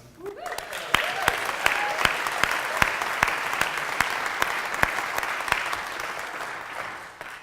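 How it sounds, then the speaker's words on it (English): Loud, sustained applause from a large synagogue audience at a rabbi's installation, with sharp individual claps standing out, tapering off slightly at the very end. "Let's give a huge round of applause for Steve and Glennis."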